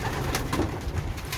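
Pigeons cooing in a loft, several overlapping soft throaty coos close by, steady and continuous with a few brief flutters.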